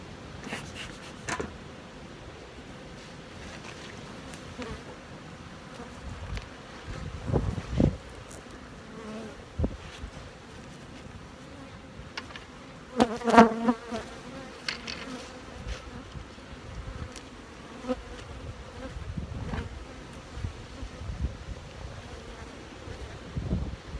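Honeybees hum and buzz around an open hive box, a steady close drone with louder swells as individual bees fly past the microphone, plus light wind noise and occasional handling knocks.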